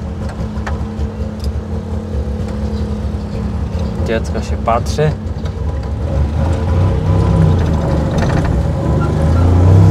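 A small old Syrena 105L car engine putters and revs nearby while driving, growing louder toward the end, while people talk over it.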